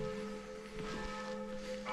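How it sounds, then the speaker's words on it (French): Church bells ring in the distance, heard from inside a collapsed abandoned manor, a steady faint metallic tone with sustained resonance over quiet background hiss. "on entend les cloches"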